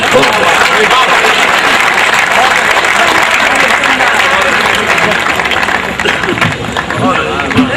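Loud, dense audience applause at a national kavi sammelan poetry gathering honoring a poet, sustained and even throughout with a faint murmur of crowd voices beneath the clapping.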